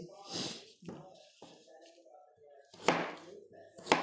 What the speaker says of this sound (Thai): เฮาก็สิมาหั่นให้มันเป็นลูกเต๋าด้วยจ้ะ